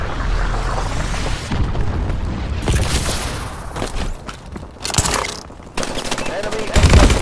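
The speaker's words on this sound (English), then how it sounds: "Enemy missile strike" Missile strike explosions and heavy gunfire in the futuristic shooter game Call of Duty: Advanced Warfare, a dense continuous barrage of booms and rattling shots with a sharp loud burst near the end.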